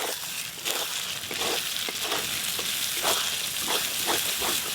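Mashed fish is stirred with mustard oil in a wok, giving a continuous soft sizzle broken by repeated scraping strokes at a fairly steady rhythm, close and alone.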